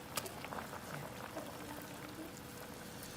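Sour soup with red tilapia boiling in a pot before the fish goes in, a steady low bubbling and simmering wash that continues evenly throughout with no voices.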